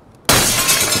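Window glass shatters in Escape From Tarkov, one sudden loud crash that bursts in after a quiet moment and rings on with scattering shards.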